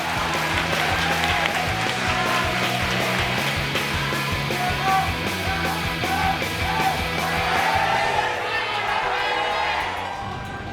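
An arena crowd at a KartRider league race start, applauding and cheering with yells, a continuous noisy roar with clapping throughout, mixed with music or game sound.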